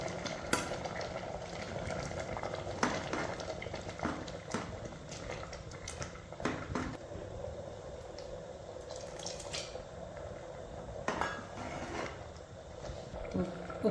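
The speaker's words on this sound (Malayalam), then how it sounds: "നല്ലപോലെ തിളച്ചിട്ടുണ്ട്" Curry with ground coconut, cumin and turmeric simmering in a pot, a soft continuous bubbling with scattered clinks and stirring sounds, under intermittent talk.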